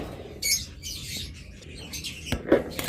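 Pet cockatiels at a bird seller's shop give bursts of sharp, bright chirps and tweets in short irregular clusters, close by, with brief rustles and flutters between calls.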